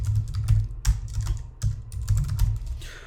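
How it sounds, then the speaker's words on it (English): Quick, uneven keystrokes clatter on a computer keyboard in a close, quiet room, with short pauses between bursts of typing. "So I'm just going to type in Tshark"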